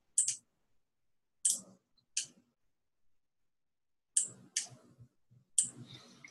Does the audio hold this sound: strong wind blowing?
no